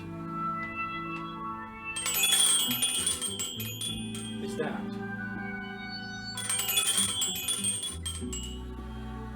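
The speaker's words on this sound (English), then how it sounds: "It's just a little ball that rakes across little aluminum rods." A small ball on an old toy twirl wheel rattles and rakes across thin aluminum rods, producing bright, bell-like metallic tinkling in bursts, with a brief voice in between.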